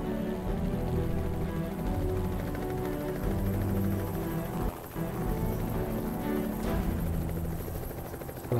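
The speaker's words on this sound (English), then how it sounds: "Fucking helicopter's back." A helicopter in the zombie survival game Project Zomboid drones overhead with a steady, rhythmic rotor thump, sustained and fairly faint throughout, without speech.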